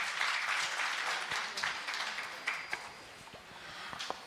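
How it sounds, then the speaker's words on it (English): An audience at a business summit in Kisumu gives a round of applause, steady dense clapping at moderate volume that gradually thins and fades toward the end. "One more time, a round of applause as they begin."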